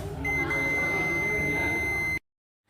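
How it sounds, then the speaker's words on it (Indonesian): A multimeter's continuity buzzer gives one steady, high, continuous beep lasting about two seconds, then cuts off abruptly into silence. "apabila koneksi terhubung maka buzzer akan berbunyi"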